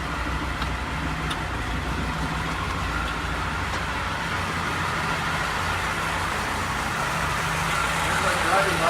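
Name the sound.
Lancia Flavia engine started and running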